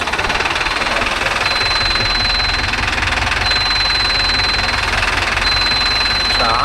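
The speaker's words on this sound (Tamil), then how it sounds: "எவ்வளோ வண்டி போகுது பாருங்க." Engines of tractors and other vehicles on a road, including Mahindra Arjun Novo 605 and Mahindra 575 DI tractors, produce a loud, steady rumbling drone with a thin whine, continuous and close throughout.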